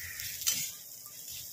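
Slit green chilies drop into hot frying oil for an onion-and-lentil dal, giving a brief soft crackling sizzle with a small stir-like clatter, close by and fairly quiet, with no voices.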